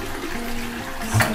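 A toilet with a faulty flush on the island of Samui drains in a steady, close rush of water, then a louder gurgling surge near the end as the cistern begins to refill.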